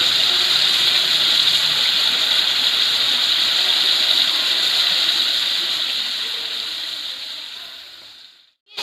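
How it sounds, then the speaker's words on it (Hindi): Water is poured into a pan of cooking masala with tomato, turmeric and chili for beef paya. A loud, steady hiss and sizzle continues for about eight seconds, slowly fades and then cuts off, with no talking. "अब मैं इसमें ऐड कर रही हूँ थोड़ा सा पानी"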